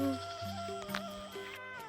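Goats bleat up close in overlapping wavering calls, several animals crying out one after another without pause.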